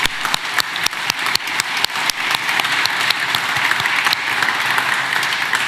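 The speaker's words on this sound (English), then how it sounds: "So a big round of applause to all of you here" A crowd at a report launch event applauds steadily, with dense clapping throughout and a few sharp, louder claps standing out near the start.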